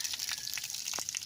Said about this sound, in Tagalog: lakas ng agos ng tubig